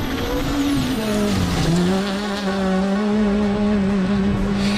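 Rally cars at full throttle on a rocky 14.5 km stage, engine whining loud and close as revs rise and fall through gear changes, with tyre scrabble underneath.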